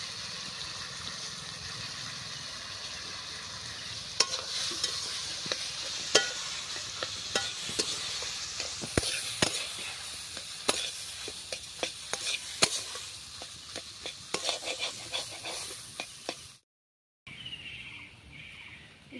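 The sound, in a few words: stirring boiled potato and spice mixture in pan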